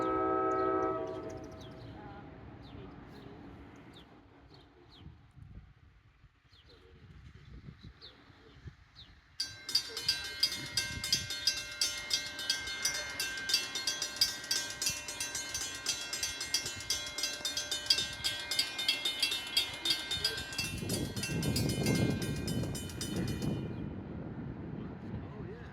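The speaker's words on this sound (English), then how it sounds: "seeing train 1725 from Hoboken to Suffolk in the part now" An NJ Transit Main Line commuter train passes the Hollywood Avenue crossing in Ho-Ho-Kus, New Jersey: a horn sounds early, then a long steady rumble and rhythmic wheel clatter build loud and close before fading, with some voices talking.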